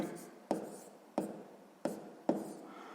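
Pen or chalk writing out a maths exercise: four sharp tapping strokes at roughly even intervals, each trailing off into soft scratching, close and quiet.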